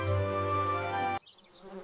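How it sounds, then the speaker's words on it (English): A small bee hovers among tall yellow-petalled garden flowers, giving a close, steady, droning buzz that holds for about a second before cutting off, leaving faint outdoor ambience. "A little bee. It likes the yellow petals."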